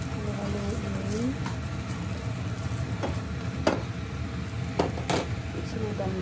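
Sausage sizzles and fries in a pan while being stirred, a steady crackling hiss with scraping stirs and a few sharp clicks, all close and even throughout.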